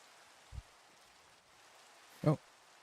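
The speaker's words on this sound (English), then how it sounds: "Also it's raining" Rain falls in Minecraft as a faint, steady hiss throughout, broken by two short, soft thumps.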